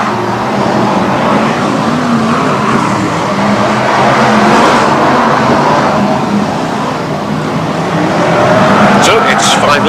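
Stock cars race on a speedway oval at Baarlo, a continuous loud roar of engines running through the whole stretch, with a commentator talking over it.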